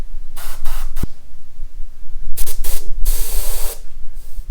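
Aerosol can spraying red paint onto a custom welding helmet, short close hissing bursts: a few quick sprays, a click, then longer sustained passes near the end.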